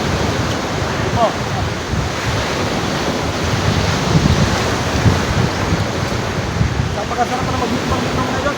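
Surf rolling in at Bebay Dagat beach, a steady broadband wash of waves with wind buffeting the microphone throughout, fairly loud and continuous with no distinct breaks.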